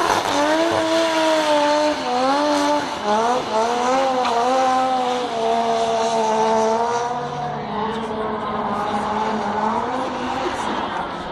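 An R32 Nissan Skyline drift car, driven hard on the handbrake at a New Zealand drift event, screams with a loud revving engine and long squealing tires. The engine pitch rises and falls as the car swings around.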